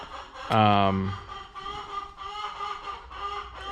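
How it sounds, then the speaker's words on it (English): A hen in a barn lets out a loud squawk, followed by softer repeated clucking from chickens nearby, the egg-laying cackle continuing in short bursts. "we get to hear the egg song. So that's them celebrating that they laid an egg"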